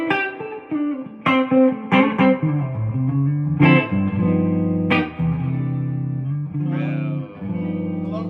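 An electric guitar plays a slow run of plucked notes and chords, each ringing out with a lush, spacious reverb tail.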